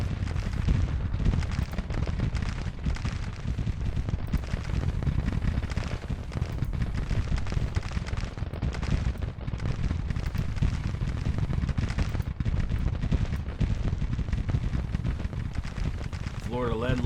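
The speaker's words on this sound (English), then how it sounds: "Let's get them doing some long-range fire so they can start getting some rifle fire on those guns." An infantry line fires rifles in the Civil War strategy game Grand Tactician, a dense, continuous crackle of overlapping musketry that rolls on steadily throughout without letup.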